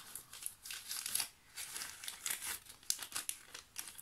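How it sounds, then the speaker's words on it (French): A crinkly plastic bag rustles and crackles close by as it is handled, quiet irregular crinkling bursts with short pauses between. "je le remets dans le sachet pour l'instant"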